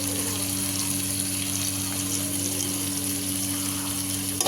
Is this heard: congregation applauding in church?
no